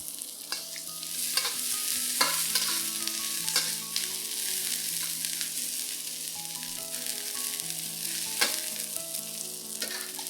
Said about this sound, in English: Stir fry this for about 30 seconds or so till all the aromatics are fragrant